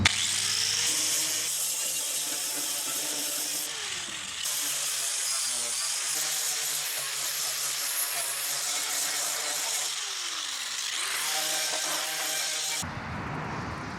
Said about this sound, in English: Then an 80 grit sanding wheel finished up the rest.